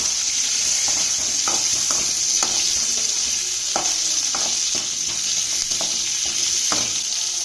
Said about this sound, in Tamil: 2 தக்காளி, 3 பச்சை மிளகாய், ஒரு துண்டு பட்டை நல்லா வதங்கிட்டோம்.